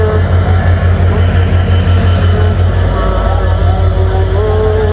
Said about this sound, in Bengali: যশোর জংশনে প্রবেশ করছে ডাউন রূপসা এক্সপ্রেস, পুরো পাকা প্রায় 1 ঘন্টার বিলম্ব নিয়ে। লোকোমোটিভ 6321।